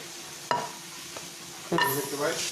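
Onions go into a hot pan for enmoladas, landing with a sharp burst at about half a second and again later, each followed by a moderate crackling sizzle and some stirring clatter; no voices.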